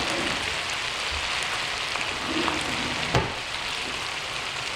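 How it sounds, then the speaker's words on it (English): Shrimp fry in a pan during a home cooking lesson, giving a steady close sizzle with a soft clack near the three-second mark as they are turned over. "we're going to start flipping the shrimp"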